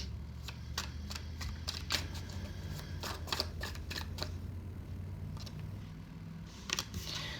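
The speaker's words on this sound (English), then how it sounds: "One more shuffle." Tarot cards being shuffled by hand, a run of quick, crisp riffling snaps and flutters in bursts, close and fairly soft, then a short pause before a final few flicks, with no talking.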